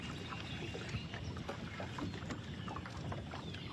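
Wind buffets the open air over Lay Lake, a steady rushing hiss close to the microphone, mixed with faint lapping and knocks from a fishing boat on the water.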